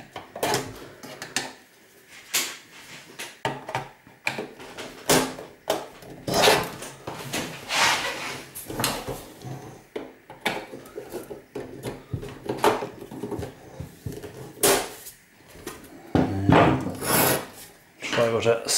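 Plastic clips on a PC/POS computer case are pried open with a screwdriver, giving irregular scraping, rubbing and clicking sounds up close, with some snaps and knocks.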